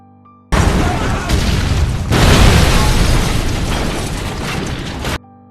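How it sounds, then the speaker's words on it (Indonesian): A loud, sudden bomb explosion erupts with a heavy roar, followed by a second surge of rumbling blast and debris that fades abruptly. "hingga akhirnya tempat itu pun meledak"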